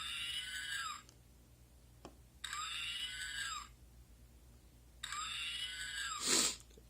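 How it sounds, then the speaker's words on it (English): A small R2-D2 toy robot lets out three shrill electronic screams, each about a second long, separated by short pauses, with a faint click in between. "I'm going to long press now and do the R2D2 scream"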